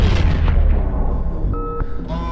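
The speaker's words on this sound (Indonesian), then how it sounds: "Ternyata itu adalah tembakan dari drone 166." Drone gunfire from the sci-fi film Oblivion: heavy booming shots with rumbling low end in a dense battle soundtrack, followed by brief tonal electronic sounds, loud and continuous.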